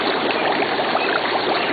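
Gas bubbles out of West Divide Creek with a dense, constant fizzing and gurgling water rush, loud and close, steady throughout with no voices.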